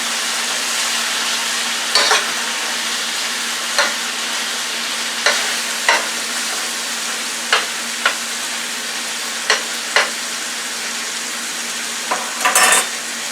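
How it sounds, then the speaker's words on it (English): Onions and peppers frying in a pan with a steady, loud sizzle, while a utensil stirs them in occasional scraping strokes every second or two; no one speaks. "I want to stir my vegetables"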